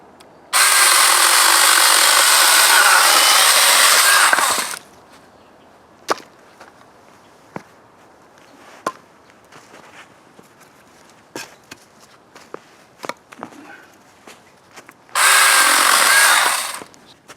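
An Avhrit 6-inch 21-volt cordless mini chainsaw whines loudly through seasoned brush-pile wood in two bursts, the first about four seconds long, with scattered snaps and thumps of handled branches between cuts.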